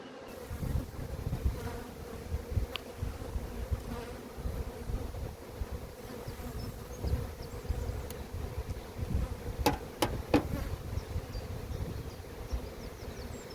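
Honeybees buzz steadily around an opened hive while frames are spread apart, a close, continuous droning hum with a few sharp clicks and knocks from handling the frames.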